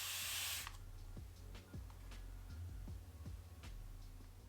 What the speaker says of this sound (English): now that I'm spraying the water on the paper, it automatically flattens out again